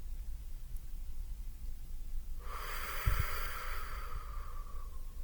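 Slow, deep exhale during a guided deep-relaxation breathing exercise, a long breathy rush of air starting midway and gradually fading, close and fairly loud with no talking.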